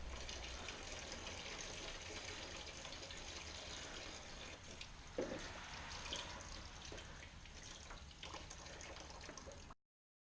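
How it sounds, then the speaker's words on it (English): Coolant draining out of a Mini Cooper R53 supercharged engine during an oil pan gasket service, a steady close trickle and splash of liquid running continuously, with a brief louder gush midway. "Just go ahead and dump out the rest of your coolant."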